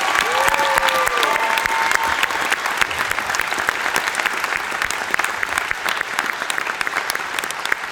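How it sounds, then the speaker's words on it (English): Audience at a school symphonic, concert and jazz band event applauding: dense, loud, sustained clapping from a crowd fills the whole stretch, with a faint voice early on. "So round of applause, please."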